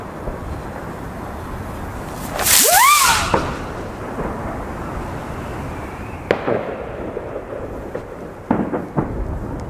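New Year's Eve fireworks over Berlin-Marzahn heard from a hilltop, one loud whistling rocket burst early on, then scattered distant bangs and crackles from a far-off firework battery over a low rumbling background, with no voices.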